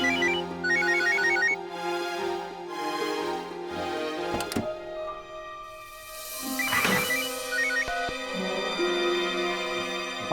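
A melodic phone ringtone plays loudly, repeating its bright electronic phrase with a couple of sharp clicks in between and no talking.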